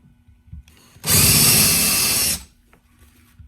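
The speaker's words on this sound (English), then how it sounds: "I'm just going to take this taper bit and I'm going to countersink" A power drill with a taper bit countersinks a screw hole in pallet wood: one loud, steady whirring burst of just over a second, close up, with quiet background before and after.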